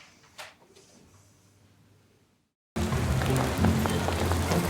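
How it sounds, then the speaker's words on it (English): Rain falls outside. A quiet stretch with a brief thump gives way to a sudden, loud, dense and steady hiss of rainfall that carries on to the end, with no talking. "Oh, it started raining?"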